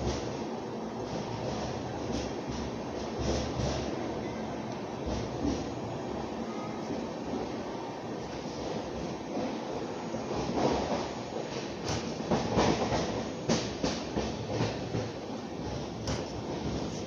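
A Duronto express train departs Kota junction with a steady, loud rumble of wheels on rails, rising slightly with clanks and rattles toward the end, heard without speech.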